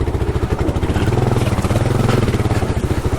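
Kawasaki KLR adventure motorcycle riding home from the trails, its single-cylinder engine chugging steadily with rhythmic pulses and some clatter, loud and close, with no talking.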